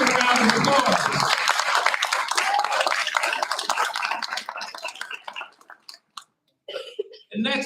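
Applause from an audience at a school board meeting: dense clapping fills the first several seconds, then thins and fades into near silence before a brief return of sound.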